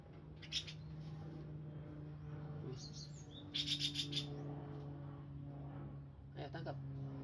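Oriental magpie-robin in a rooftop aviary giving a few short chirps and bright whistled notes, fairly close but soft, over a steady low hum and faint background voices.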